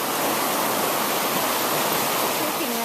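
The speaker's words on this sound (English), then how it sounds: "The falls in the background." A waterfall on a woodland trail roars steadily, a loud, dense, unbroken rush of falling water close by that fills the whole clip.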